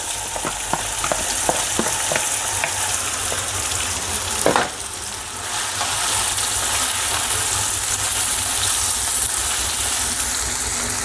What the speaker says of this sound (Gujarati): હવે તુરિયા નાખી દઉં.